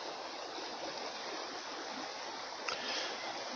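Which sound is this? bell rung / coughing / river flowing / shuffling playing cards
river flowing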